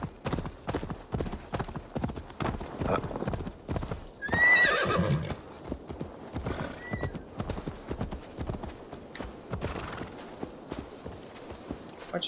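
A horse in the video game Assassin's Creed Valhalla, its hooves clip-clopping in a close, steady rhythm, with a loud whinny in the middle and a shorter neigh a moment later.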